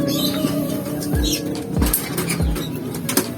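Pigeon cooing in a repeated series of low, swooping calls, close by, with light flapping and rustling around it and no voices.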